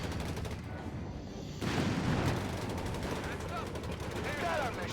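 A Company of Heroes 3 battle with Sherman and Panther tanks, where rattling small-arms fire and heavier tank shots run steadily and a louder burst hits midway, partly under a commentator's voice.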